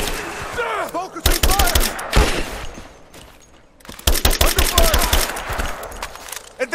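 Dense bursts of rapid automatic gunfire from Rise of the Tomb Raider on PS4 Pro rattle loud and close in two long volleys with a short lull between, while voices shout over the shooting.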